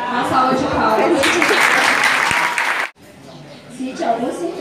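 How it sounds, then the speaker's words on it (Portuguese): Loud, dense clapping from a school audience at a talk fills the first three seconds, then cuts off abruptly, leaving quieter room noise and scattered sounds. "Uma salva de palmas."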